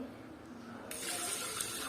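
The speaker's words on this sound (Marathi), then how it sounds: "2 ग्लास पाणी घालूया." Water poured from a glass into freshly harvested rice in a pot while making rice kheer, a steady close splashing gush that starts abruptly partway through and keeps going to the end.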